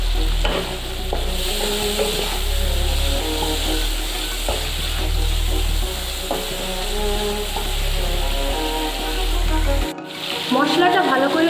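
Ground coriander, chilli powder, cumin, salt, turmeric and sugar sizzle steadily in hot oil in a kadai, with continuous stirring and scraping close up and a brief pause near the end.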